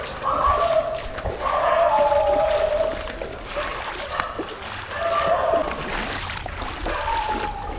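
Steady splashing and sloshing through flood water in Nalasopara, continuous and fairly loud, with a few brief whistled or squeaky tones over it.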